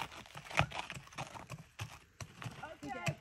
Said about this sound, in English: I like watching the horses.